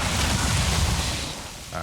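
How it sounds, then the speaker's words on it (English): A loud, heavy boom in the video game Valheim, a single broad rumbling blast that fades out, close and without talking. "Explosions."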